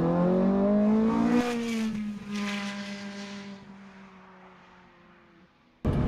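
A Ferrari 430 Scuderia runs flat out on a track, its loud, steady engine note holding, then dropping and fading as it brakes hard for a hairpin, before a sudden burst of noise at the very end.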